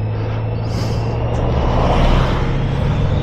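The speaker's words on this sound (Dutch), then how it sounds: "Daar rijdt ook die bus." A bus climbing a mountain pass road between the Furka and Oberalp passes in the Swiss Alps, heard as a steady, loud low engine drone with rumbling road noise throughout.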